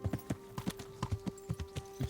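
A horse galloping in the medieval game Kingdom Come Deliverance, rapid rhythmic hoofbeats thudding in quick repeated clusters, close and clear over a faint steady hum, with no talk.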